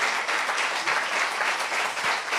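A brief burst of steady audience clapping at an introductory talk, dense and even from start to finish.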